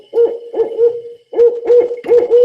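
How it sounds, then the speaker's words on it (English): Barred owl hooting loudly and close, a rhythmic series of about six low, hoarse hoots in two quick groups with a short pause between. "Barred owl again."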